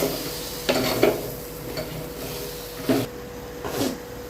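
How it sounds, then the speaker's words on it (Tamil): Chicken sizzles steadily in a hot pan, punctuated by a few short scraping strokes of a spoon stirring it, close by and without talk. "சிக்கன் நல்லா வதங்கிடுச்சு."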